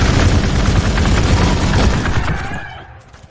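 Gunfire in the turn-based strategy game Warhammer 40k Gladius: a dense, roaring volley of shots and booms that holds steady, then fades out over the last second, loud and with no talking.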